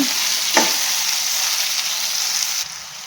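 Bitter gourd pieces, salted, frying in a pan with a steady loud sizzle throughout, stirred with a brief scrape near the start, then the hiss drops slightly toward the end.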